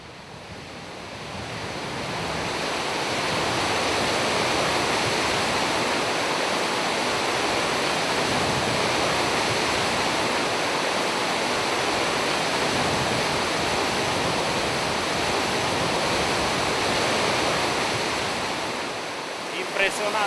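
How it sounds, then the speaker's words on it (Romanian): Gullfoss waterfall in Iceland roars as a loud, steady, broadband rush of falling water that fills the whole stretch without a break, with wind buffeting the microphone. "Huruitul cascadei Gullfoss se auzea de departe"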